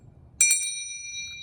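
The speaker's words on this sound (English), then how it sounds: "So it's a nice brass bell," A vintage brass bell is struck once, a bright clear ding that rings on with a sustained shimmering tone in a quiet room.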